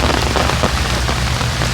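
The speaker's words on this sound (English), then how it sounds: "It's raining." Steady rain falls during an outdoor festival, a dense hiss of drops pattering on surfaces, close and loud throughout with no speech.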